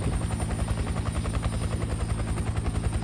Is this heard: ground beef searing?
no